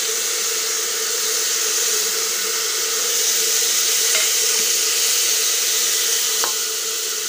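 Chopped spinach dropped into hot oil in a pressure cooker gives a loud, steady, hissing sizzle with a few faint clinks, and no voices.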